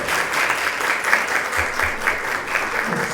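A room of people applauding at an academic talk on education and health, brisk overlapping claps holding at a fairly loud, even level throughout, a faint low murmur underneath.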